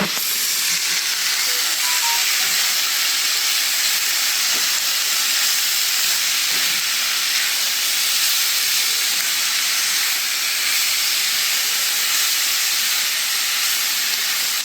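Fresh white mushrooms sizzling in a very hot cast iron pan, a loud, constant hiss that runs unbroken throughout, with a few faint knocks of stirring.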